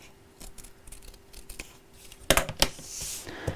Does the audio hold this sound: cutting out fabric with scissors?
yes